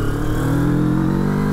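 A Moto Morini X-Cape adventure motorcycle's engine pulls up through the revs, a loud close steady drone with rising harmonic tones, no talk.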